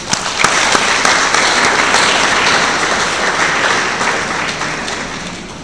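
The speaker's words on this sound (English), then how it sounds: "Shall we please clap for them?" A large lecture audience applauds steadily and loudly for several seconds, many hands clapping in a dense wash that slowly tapers off.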